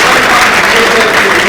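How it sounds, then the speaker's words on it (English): A lecture-hall audience applauds steadily, a dense, loud wash of clapping that fills the short moment without a break. "So, I gave a round of applause."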